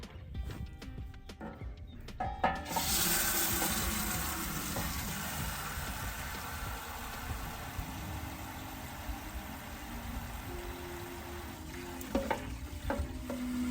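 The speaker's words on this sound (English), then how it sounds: "Now I am watering them in with, like I said, Epsom salt and the fish emulsion." Plants in a small raised-bed garden are watered with a 2-gallon pitcher of Epsom salt and fish emulsion solution, a steady close splashing pour that begins after a few seconds and runs continuously to the end.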